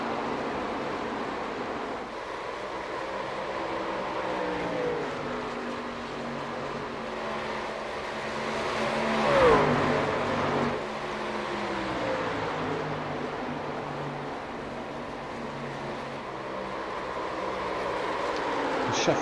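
Racing trucks at an ANZCAR Truck Series round at Atlanta drone steadily on the track, a blended engine roar from the field with one louder pass swelling midway, heard from a distance.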